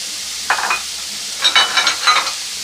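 Vegetables (cabbage, carrot, boiled peas and potato) being stirred and fried in a pan for macaroni, with short bursts of scraping and sizzling in three close, moderately loud clusters against a faint steady hiss.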